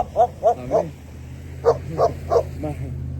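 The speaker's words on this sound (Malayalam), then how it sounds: "ഒരു നായ കുരയ്ക്കുന്നുണ്ട്." A dog barks in two short bursts of three, close by, over a low steady background hum.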